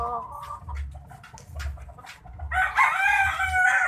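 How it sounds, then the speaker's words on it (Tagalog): Chickens in a backyard coop cluck in low, close bursts, then a rooster lets out a loud crow near the end, with no one talking over them. "Good morning mga manok."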